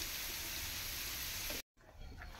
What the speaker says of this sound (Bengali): এগুলো লাল লাল করে ভেজে নেব।